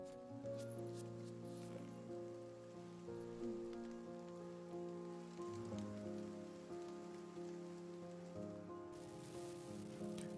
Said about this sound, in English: The endless pattern of rain on the street creates a wordless song.